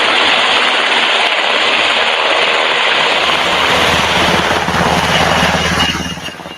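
A Black Hawk helicopter in Afghanistan produces a loud, sustained roar of rotor and engine noise that stays steady throughout and eases off slightly at the very end.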